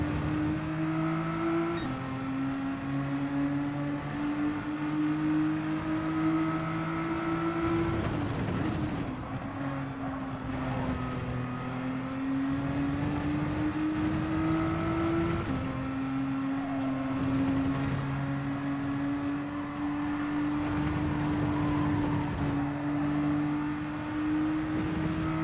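A car drifting in the Gran Turismo 7 racing game, its engine holding a loud steady drone with a couple of sharp gear-shift dips, rising and falling as the car slides.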